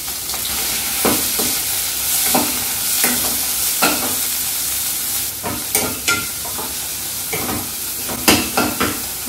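Finely chopped coriander leaves, about a cup, sautéing in a pan, with a steady soft sizzle broken by repeated sharp scrapes and clinks of stirring at close range.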